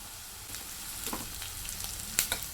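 Onion, green chillies and curry leaves fry in hot oil for a tamarind-leaf prawn curry, a soft steady sizzle with a few light stirring scrapes toward the end and no voices.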